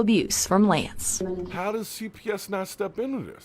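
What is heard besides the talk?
No everyday noise stands out behind the speech.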